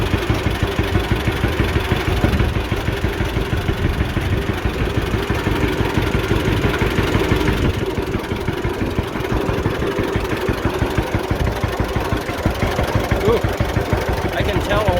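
A John Deere A tractor with a new front end drives into a gravel pit, its engine loud and close with a steady, heavy chugging beat throughout, while a voice talks over it.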